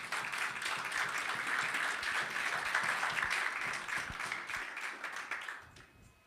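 A church congregation applauds Christ during a worship service, with dense, steady clapping from many hands filling the room for about five seconds before tapering off.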